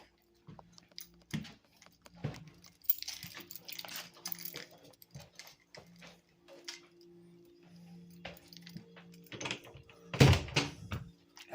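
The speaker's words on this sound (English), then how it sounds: "That's the back door at the end of the apartment." Door at the back end of an apartment handled with a few faint clicks and latch knocks, ending in a louder clunk near the close, against a low steady hum in a quiet indoor space.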